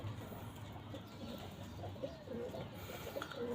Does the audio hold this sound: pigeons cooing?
yes